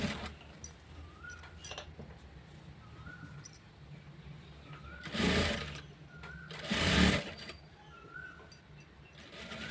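A sewing machine stitching a blouse runs in two short bursts, each a steady whirring rattle lasting about a second, surrounded by quieter pauses with faint clicks and a distant bird.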